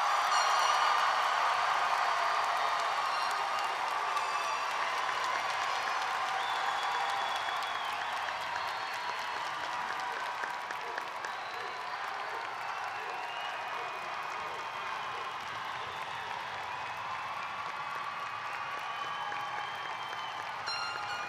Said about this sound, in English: Please give all of our graduates one more round of applause.